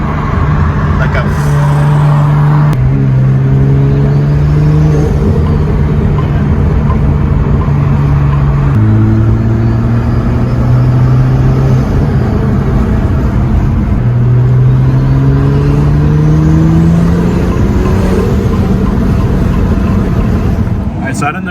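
A car fitted with an MST Performance intake revs up and down repeatedly. The loud engine rises and falls in pitch, with short breaks between pulls, under a constant close rumble.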